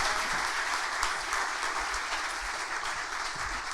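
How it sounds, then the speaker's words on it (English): A large audience at a women's bus and coach industry summit applauds steadily for a panel of four, dense continuous clapping held at even loudness throughout. "Can you give them a massive round of applause?"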